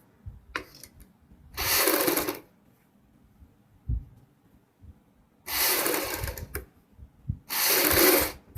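A sewing machine stitching piping onto a boat neck, heard as three loud close bursts of fast mechanical whirring separated by quiet gaps with faint handling clicks.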